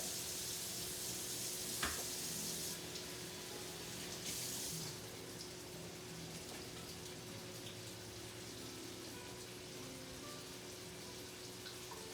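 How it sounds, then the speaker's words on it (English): Vegetables and lettuce being washed under a running kitchen tap, a steady hiss of flowing water with a sharp clatter early on, continuous and fairly faint. "I'm gonna wash my vegetables and my lettuce and everything"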